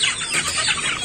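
Joper chickens cluck and squawk in a dense, overlapping flock during harvest weighing on a poultry farm; the calls are close and continuous through a brief moment.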